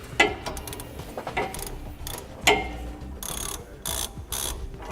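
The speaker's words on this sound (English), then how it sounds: "I'm going to be using an 18mm socket to remove it." A hand ratchet with an 18mm socket works an end link nut off the front suspension of a 2015 Winnebago Minnie Winnie motorhome, giving rapid clicking bursts with brief pauses between strokes, close and clear.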